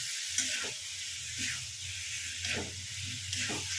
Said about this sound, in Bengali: এই জায়গায় একটু ভালো করে এটাকে কষিয়ে নেব